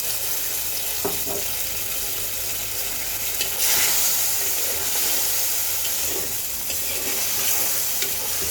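Fried eggplant is stirred and sautéed in oil for a light meni fish curry. A continuous bright sizzle and hiss runs throughout, with occasional soft scraping stirs close by.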